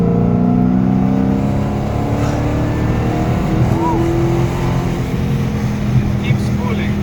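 A Dodge Challenger Hellcat on drag radials pulls hard in fifth gear, its engine a loud, steady droning roar with rising tones, heard from inside the car, with a voice speaking over it.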